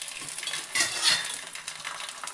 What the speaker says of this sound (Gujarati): તો ચાલો હવે તેને તળીને પણ હું તમને દેખાડી દઉં